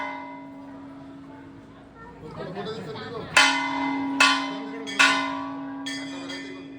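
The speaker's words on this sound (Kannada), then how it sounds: "ಅಷ್ಟು ದೊಡ್ಡ ಗಂಟೆ ನಾವು ಅಲ್ಲಿ ಹೋಗಿ ಅದನ್ನು ಹೊಡಿಬೇಕಾದ್ರೆ ಅಲ್ಲಿಂದ ಬರೋ ವೈಬ್ರೇಷನ್ ಇದೆಯಲ್ಲ ನೆಕ್ಸ್ಟ್ ಲೆವೆಲ್" A large temple bell at Manikarnika Ghat is struck three times in steady succession, each loud clang blooming into a long shimmering ring over a constant low hum, with no talk.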